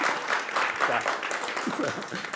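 An audience at a music talk session gives a round of applause for a Grammy-winning guest, dense clapping with voices and cheering mixed through it.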